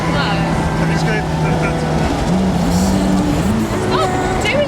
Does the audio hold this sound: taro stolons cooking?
no